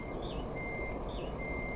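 A truck's reversing alarm in Euro Truck Simulator 2 beeps three times in steady rhythm over a constant low engine drone.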